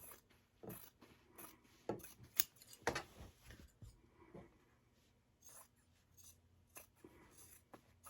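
Scissors snip off excess fabric bulk from a holiday table topper in a few quiet, irregular cuts, with faint handling rustle between them.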